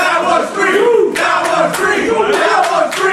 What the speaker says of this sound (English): crowd definitely showing their displeasure